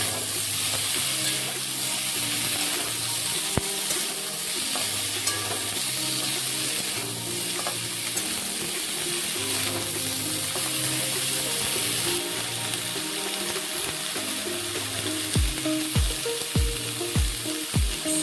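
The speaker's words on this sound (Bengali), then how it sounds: "ফুলকপিগুলোকে খুব ভালোভাবে ভেজে নেব।" Cauliflower pieces fry steadily in hot oil for a fulkopi dish, a continuous bubbling sizzle close by with a low rhythmic hum underneath and a few sharp clicks near the end; no one speaks.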